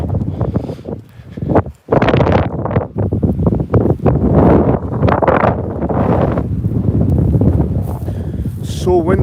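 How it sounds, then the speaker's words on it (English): Strong wind buffets the microphone in loud, uneven gusts, with a brief lull before roaring back and holding steady. "So windy today."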